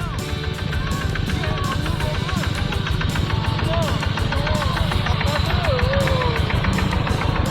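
A tractor engine chugs steadily and loudly up close on a rough canal-side track by rice fields, its rhythmic thrum constant throughout, with a voice faintly audible over it.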